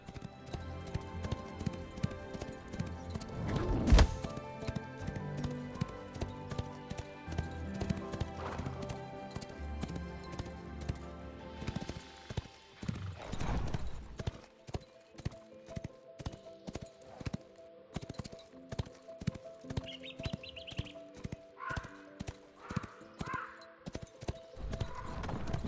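Horse hooves clip-clop in a steady rhythm through the fantasy game Ashes of Creation, joined by a brief whinny and game sounds, with occasional faint talk.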